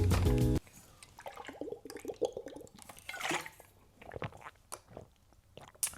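Someone crunches a chewable Acerola 1000 vitamin C tablet, starting with a loud, close bite and followed by quieter, irregular crunching and chewing.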